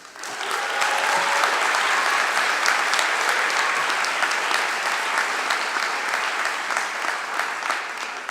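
An audience at a 2021 high school graduation ceremony bursts into steady, sustained applause welcoming the speaker, many hands clapping together for about eight seconds before tapering slightly.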